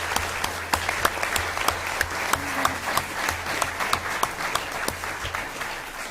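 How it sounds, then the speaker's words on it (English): Audience at a League of Women Voters congressional candidate forum in Camarillo, California, applauding the four candidates, a steady wash of many hands clapping with sharper nearby claps, moderately loud and without talk. "How about a round of applause for these 4 candidates?"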